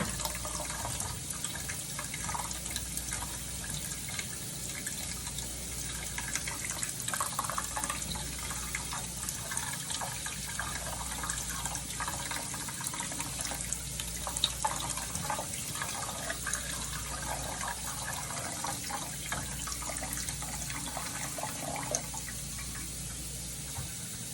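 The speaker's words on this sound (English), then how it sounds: "Just add in my chicken stock." Steady running chicken stock pouring into a pot continues for the whole stretch at moderate level with faint clinks, no talking.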